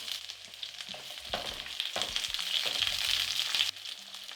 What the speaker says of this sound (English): Start sauteing the onions.